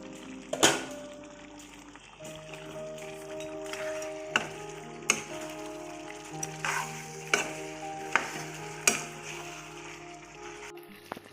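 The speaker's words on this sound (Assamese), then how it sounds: "মই ঢাকনাখন খুলি এইখিনি লৰাই দিম।" Chicken curry stirred in a pan with the lid off, a steady low sizzle under sharp clacks of a spoon against the pan's sides, several spaced scrapes, close by with no talking.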